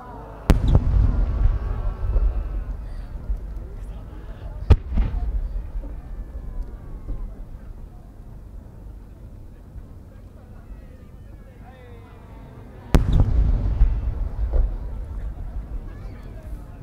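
Fireworks burst at the Omagari fireworks festival in Akita, three sharp booming explosions with rumbling echoes between them, heard over crowd noise and an announcer.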